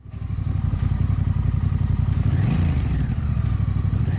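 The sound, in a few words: Honda Rebel 1100 motorcycle engine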